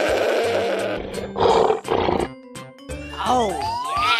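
A cartoon lion gives a roar in a playful animal game, loud and brief amid a busy stretch of music, squeaky effects and cheerful sounds.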